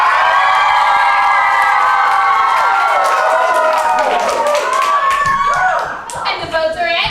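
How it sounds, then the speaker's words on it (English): Camp audience cheering and shouting for a contestant during a camp show vote, a loud continuous crowd roar with high children's voices that thins and breaks into scattered shouts near the end. "cheer now!"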